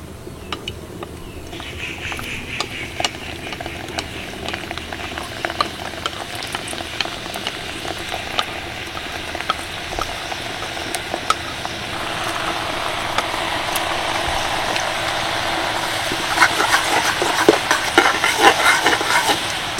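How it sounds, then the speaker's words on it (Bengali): Nimki, shaped dough snacks, deep-frying in hot oil: a steady crackling sizzle that runs throughout, growing a little louder and busier toward the end, with no talking. "বাকি শেপ দিয়ে রাখা নিমকিগুলোকে একইভাবে ভেজে"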